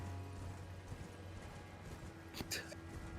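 The horse mount Torrent in Elden Ring: Shadow of the Erdtree gallops with rhythmic, faint hoofbeats. The sound sits under ongoing talk, with a brief sharper burst near the end.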